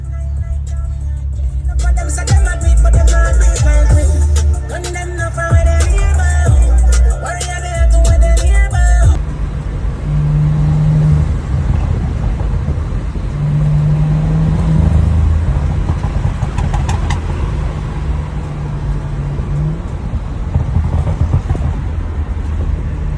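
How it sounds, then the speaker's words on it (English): A BMW F10 535i engine with a custom intake drones loudly up close, with a throaty intake roar that rises and settles as the car drives steadily along at night. "That custom intake sounds damn good, man."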